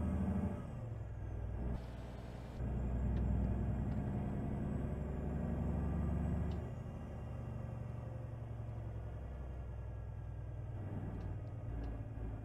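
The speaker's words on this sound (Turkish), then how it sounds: "Arabaların motor seslerini de biraz güçlü vermişler." Heavy truck engines rumble in a truck-driving video game with a Ford F-Max, a loud low drone that swells for a few seconds, then settles to a steadier idle with faint clicks.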